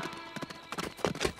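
Cartoon horse hooves clop in a quick uneven rhythm, growing slightly louder as they approach, brief and moderately quiet with no talking.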